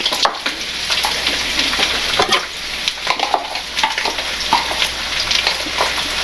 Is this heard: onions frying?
yes